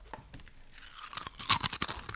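Close, loud crunching of potato chips being chewed, a burst of crisp crackles that grows denser toward the end.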